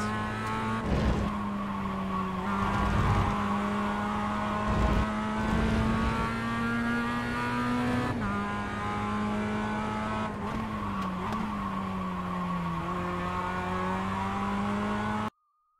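A Global MX-5 race car in a racing video game lapping Okayama, its engine droning at steady high revs with tonal shifts as it settles off a curb, broken by brief bursts of tire and curb noise, close and continuous until cutting off.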